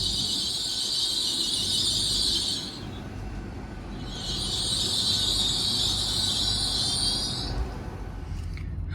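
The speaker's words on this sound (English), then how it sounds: "And we are now departing Wirral." Great Western Railway Class 800 train pulling out of a station, with a loud high-pitched squeal sounding in two long bursts over a low rolling rumble, close and steady, fading toward the end.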